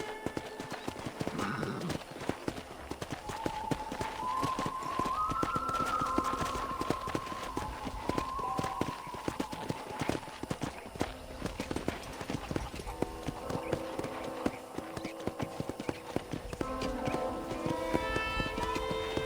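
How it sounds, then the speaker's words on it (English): Steady clip-clop of horse hooves at a walking pace in the video game Red Dead Redemption, with a brief whinny and game music and ambience underneath. "let's see if you can still ride a horse"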